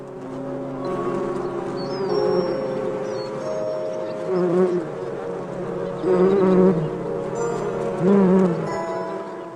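Bees buzzing in olive trees, a dense, steady drone of many insects close by, swelling louder at intervals as individuals pass near.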